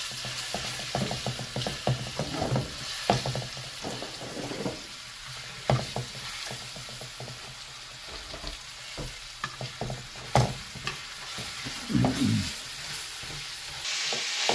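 Garlic frying in hot oil in a home kitchen pan, a steady close sizzle with occasional clinks and scrapes of utensils throughout.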